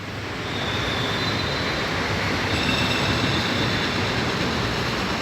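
A freight train hauled by a Hitachi locomotive rolls past nearby at night, a loud, steady roar of wheels on rails and a faint high squeal, with no voices.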